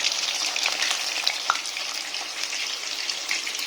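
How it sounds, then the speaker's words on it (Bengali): Marinated chicken frying in a pan, a dense continuous sizzle with a faint clink of a utensil partway through. "এই যে চিকেনটা আমি ভাজছি।"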